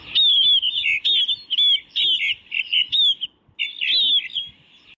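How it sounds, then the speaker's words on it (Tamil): Sparrows chirp in a garden, a close, bright run of rapid tweets in short bursts with brief gaps between them, clear and loud against an otherwise quiet background. "தோட்டத்துல இந்த குருவி சவுண்ட கேட்டு எத்தனை நாள் ஆகிப்போச்சு."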